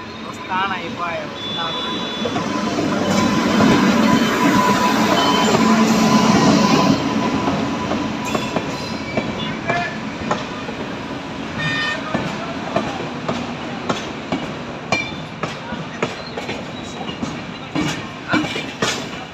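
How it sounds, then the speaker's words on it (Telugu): At night, a train rumbles past near a road underpass and flyover construction site in Anantapur, its steady roar and rhythmic wheel clatter building then fading while people talk over it. "నైట్ టైం చూడండి, ట్రైన్ వస్తుంది"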